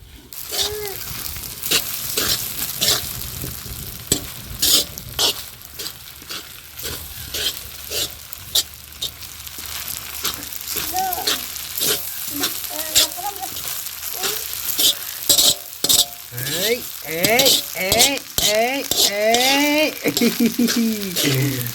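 A spoon stirs chicken rice in a hot, sizzling pan, with continuous frying crackle and scraping stirs up close, and a voice talks briefly over it.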